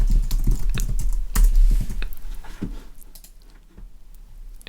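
Typing on a computer keyboard, a dense run of close, clicky keystrokes that is busiest at first and thins to scattered taps near the end, with no talk over it.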